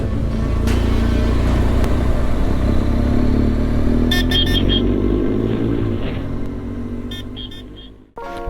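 Lorries and traffic on the Georgian Military Road: a heavy, steady engine rumble close by, fading toward the end, with brief bursts of horn toots around the middle and again later, no talking.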